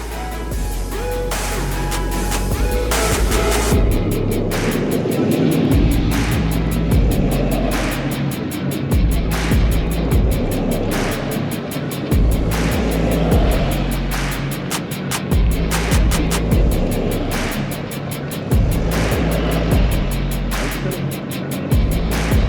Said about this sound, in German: Da kommt jetzt eine ganze Karawane von Autos.